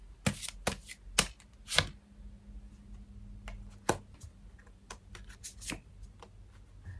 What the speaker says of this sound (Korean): 연애 조언 카드를 뽑아보려고 하는데요